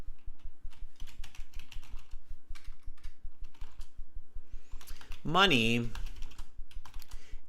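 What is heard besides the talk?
typing on a computer keyboard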